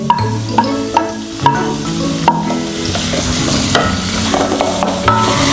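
Chopped onions fry in a pan for chicken curry, sizzling loudly and continuously while a spoon stirs and knocks against the pan in repeated sharp taps, close up with no talking.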